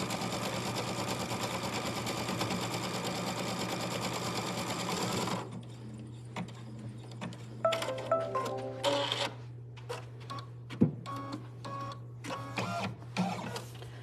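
Baby Lock Altair 2 embroidery machine stitching a placement line for an in-the-hoop treat bag, a fast steady mechanical whir for several seconds, then slowing into short irregular bursts of stitching and clicks.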